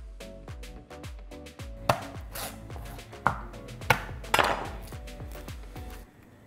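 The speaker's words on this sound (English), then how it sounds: "I want to cut and smash my garlic" Garlic being trimmed and smashed on a cutting board in a kitchen, with a run of quick knife taps followed by several louder sharp whacks, close and without talk.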